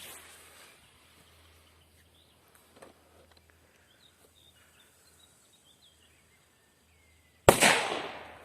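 A MINI DUM BUM P4B firecracker from Klasek, lit loose outdoors, goes off in one sharp, loud bang after a long quiet stretch with faint birdsong, then a short decaying echo.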